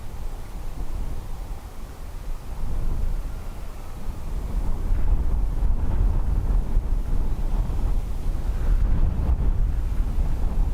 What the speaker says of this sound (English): 22 knot crosswind.